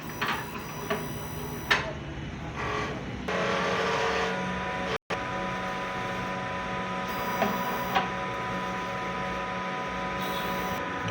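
A sublimation printer runs a head cleaning cycle, a steady mechanical whir and motor hum with a few clicks and brief surges, close and fairly quiet, with no talking.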